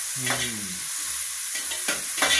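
Onions sautéing in a pan, a steady loud sizzle with a few scraping stirs and a brief tonal squeak near the start, no voices.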